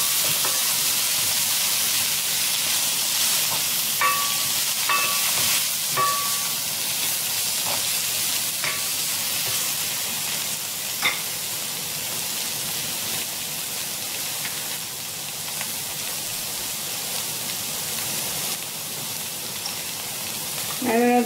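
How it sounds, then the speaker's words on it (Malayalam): Chicken mushroom curry stirred in a pan gives a constant sizzling hiss throughout, with a few light scrapes and taps of the spoon against the pan, close and steady. "നല്ലതായിട്ടൊന്ന് മിക്സ് ചെയ്യാം."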